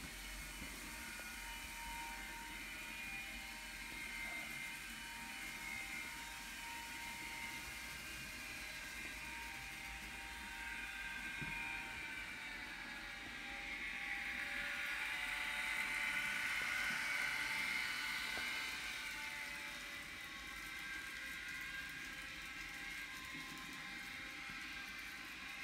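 A Fleischmann Class 193 DCC model electric locomotive motors along its track with a faint, steady high-pitched whir that swells a little midway and then settles back, and no voices are heard.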